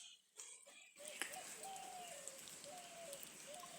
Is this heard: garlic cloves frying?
no